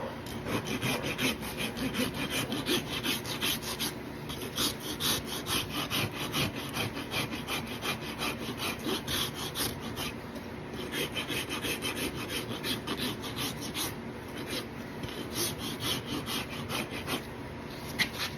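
Hoof rasp dressing a horse's hoof while heels and toe are trimmed back, steady rhythmic scraping strokes repeating quickly and continuously at close range.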